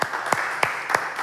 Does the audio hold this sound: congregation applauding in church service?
yes